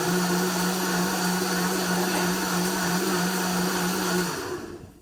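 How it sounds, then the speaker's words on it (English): A kitchen blender runs steadily, blending a paste for jollof rice with a loud, even motor whine that holds for several seconds, then switches off and winds down at the end. "We want to blend it really fine."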